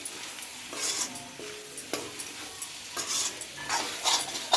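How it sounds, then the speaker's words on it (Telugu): A fry being stirred in a pan after homemade garam masala goes in, with repeated clinks and scrapes of a spoon against metal over a light sizzle, close up and without talk. "నేనైతే ఇంట్లోనే చేసుకున్న గరం మసాలా ఇదైతే కలిపేస్తున్నా అండి."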